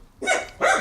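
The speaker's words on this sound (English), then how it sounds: "Sorry for the dog barking." A dog barks twice at a moderate distance, each bark short and sharp with a brief gap between them, in an otherwise quiet room.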